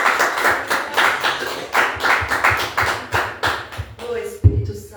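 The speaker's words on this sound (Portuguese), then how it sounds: "Dê um forte aplauso ao Senhor." A church congregation claps in steady rhythmic unison, loud and close, a few voices mixed in under the beat, ending in a heavier thump and scattered claps.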